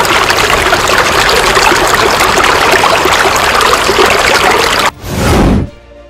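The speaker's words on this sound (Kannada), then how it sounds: "ಇದೇ ನೀರು ಕಾಲುವೆ ಮೂಲಕ ಹೊರ ರಾಜ್ಯಕ್ಕೆ ಹೇಗೆ ಭೋರ್ಗರೆಯುತ್ತಿದೆ ನೋಡಿ" Dam water from the Krishna river gushes through a canal toward Telangana, a loud, steady roar of rushing water that holds for about five seconds before cutting to a brief, different surge at the end.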